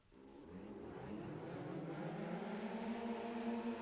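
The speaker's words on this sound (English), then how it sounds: "Engines fired up." Open-wheel race cars in a Formula 3 video game at the Spanish Grand Prix, engines firing up from silence into a dense, rising idle-and-rev drone that swells and holds, fairly faint with no talk.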